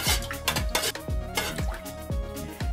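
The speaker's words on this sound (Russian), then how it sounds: "Теперь мы все это хорошо перемешиваем." Milk and other dairy ingredients for yoghurt being stirred in a bowl, a spoon clinking and scraping against the sides in quick repeated strokes, close and fairly loud.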